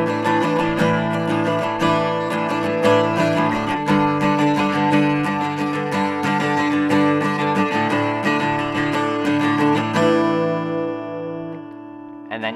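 Electric guitar plays the bridge of Pierce The Veil's "Kissing in Cars" with a processed, effects-laden tone, picking a busy run of notes up close before the last chord rings out and fades.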